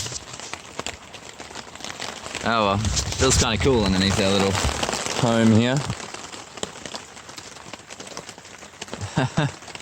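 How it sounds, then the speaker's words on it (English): Rain falls steadily on a shelter during a backpacking trip in Andalucia, a constant close patter beneath people talking and laughing. "And then it started fizzing down with rain."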